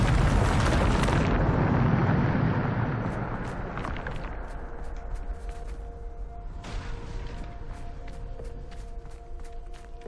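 A Bombarda spell explodes in Hogwarts Legacy with a loud roaring blast that fades over a few seconds. Light tapping footstep-like clicks follow, along with faint tonal game sounds, and there is no speech.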